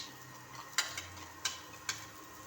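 Raisins frying lightly in a pan for basanti pulao, a soft steady sizzle broken by three sharp spatula scrapes and clinks of stirring.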